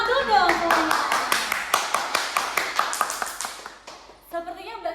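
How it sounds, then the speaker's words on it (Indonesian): A small group claps hands at an HIV/AIDS health education session, with distinct, fairly close claps in an uneven rhythm that slow down before a voice speaks at the end. "Tepuk tangan dulu dong semuanya."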